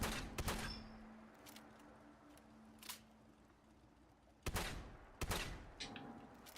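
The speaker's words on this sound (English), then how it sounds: "So, let's test the shotgun recoil." A double-barrel shotgun fires in a video game. A few sharp, loud blasts are spaced unevenly, two of them close together, over a quiet background.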